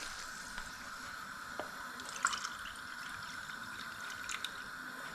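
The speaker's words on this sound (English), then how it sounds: "I'm now going to put in 2 cups of water" Two cups of water pour into a cooking pot holding peas and spices, giving a faint, steady trickle with occasional soft splashes and drips, with no voices.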